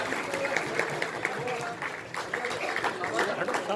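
Audience applause at a Yad-e-Iqbal award ceremony in Aurangabad honouring scholars, journalists and social workers: scattered clapping from a crowd that runs throughout, mixed with a speaker talking over it.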